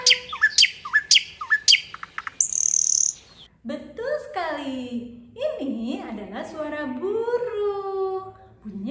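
Several bright, sharp bird chirps repeat at the start, followed by warbling, sliding bird calls and whistles that carry on clearly to the end.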